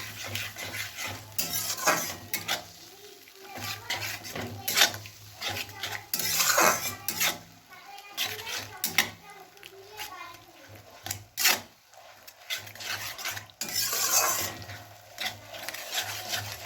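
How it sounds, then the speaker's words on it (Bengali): A utensil stirs and scrapes through cauliflower batter in a bowl as water is mixed in, with repeated rhythmic clinks and rubbing strokes close by, while a person speaks at times. "এটাকে খুব ভালোভাবে মেশাতে হবে খানিকক্ষণ।"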